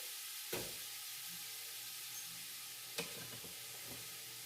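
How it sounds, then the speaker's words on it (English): Onions and vegetables sauteing in a pot for lentil soup, a steady soft sizzle and hiss with a couple of brief clatters from stirring, no voices. "this is going to start sauteing"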